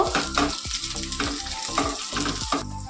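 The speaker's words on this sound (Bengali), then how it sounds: "বেগুনটাকেও আমি একটু পেঁয়াজের সাথে ভেজে নেব" Eggplant pieces fry with onion in a hot pan for a Bengali fish and eggplant curry, giving a steady close sizzle broken by regular scraping stir strokes about every half second.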